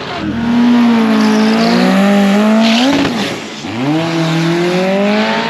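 A big-turbo four-cylinder Foxbody drag car screams down the track in a loud rising rev. It shifts once with a brief dip in pitch, then climbs again, with no talking.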